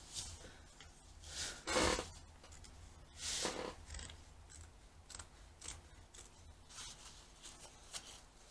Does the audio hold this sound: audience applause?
no